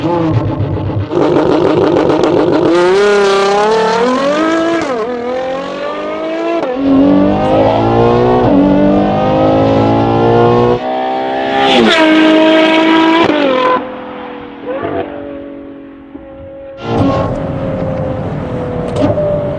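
Ferrari Purosangue V12 SUV fitted with a Novitec exhaust, revving hard in repeated loud bursts with rising and falling pitch and short pauses between, close and dominant.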